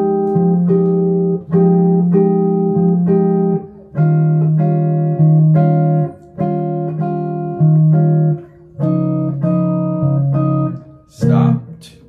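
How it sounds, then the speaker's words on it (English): Guitar strums a basic bossa nova rhythm through the opening of a jazz tune, clear close chord stabs in repeating syncopated groups with short gaps, ending on a brief percussive hit. "So if I played a basic bossa rhythm through this first part, it would sound like this."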